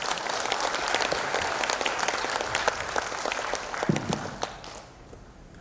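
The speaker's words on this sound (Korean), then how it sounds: "박수 부탁드립니다." An audience at a residents' information meeting gives a sustained round of clapping, dense and steady, then thinning and fading out near the end.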